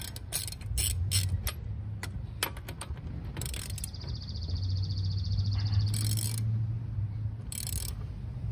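Lug nuts on a Honda Element are broken loose with a ratcheting wrench before a brake job, giving rapid clicking ratchet runs and sharp metallic snaps up close, against steady background rumble.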